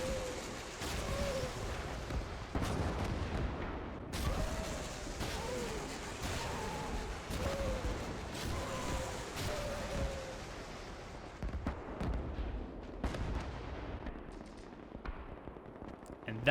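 Nebelwerfer rocket artillery firing in Gates of Hell, a World War II strategy game: a dense run of loud booming blasts and rushing launches, with overlapping explosions and battle noise throughout, under occasional voice calls.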